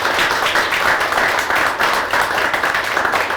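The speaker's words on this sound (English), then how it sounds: "big applause for John" Steady, dense applause from an indoor crowd at a ribbon cutting for a robotics space at the Great Lakes Science Center, holding an even level throughout with no clear breaks.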